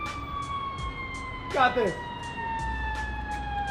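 Ambulance siren wails steadily in the distance, a long sustained electronic tone running under a brief spoken remark and some nearby clatter.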